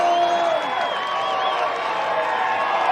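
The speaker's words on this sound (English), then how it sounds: "The freshman, this crowd has come alive." A college baseball regional crowd cheers and whoops steadily through a late-inning rally, with scattered clapping and a broadcaster's voice over the noise.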